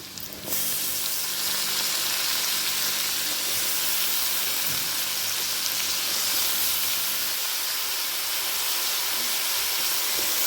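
Cut, washed eggplant pieces drop into hot oil and set off a loud, steady sizzle and hiss that jumps up at once and then holds evenly at close range, with no voices.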